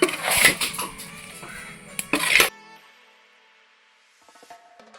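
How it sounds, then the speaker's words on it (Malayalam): Rice flour and grated coconut stirred while roasting in a pan for Kerala-style avalose, with dish and utensil clatter and a scraping spoon through the first half, then quieter faint scraping near the end. "ഞാൻ ആദ്യം കൈ ഇളക്കാതെ ഇങ്ങനെ ഇളക്കി കൊടുത്തുകൊണ്ടിരിക്കണം അല്ലെങ്കിൽ അടുക്കി പിടിക്കും"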